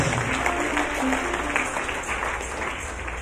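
A church congregation applauding at a French-language sermon, a steady dense clapping that fills the room and slowly fades, with some voices mixed in.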